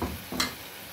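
Fried eggplant and spicy masala cook in oil with a low sizzle and one sharp scrape or stir, close and fairly quiet, with no one speaking.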